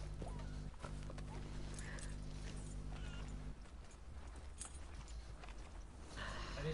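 A horse in Red Dead Online clip-clops at a steady walking pace, hooves sounding close and continuous beneath a layer of game music and ambience.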